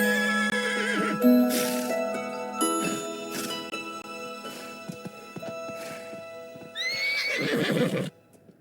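Horses whinny several times, with high, wavering neighs rising over a busy game soundscape, and a louder whinny bursts out near the end.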